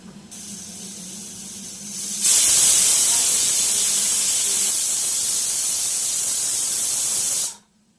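Mustard seeds sputtering in hot oil as tempering begins: a loud, close, continuous hissing spray that bursts in suddenly, holds steady for several seconds and then cuts off.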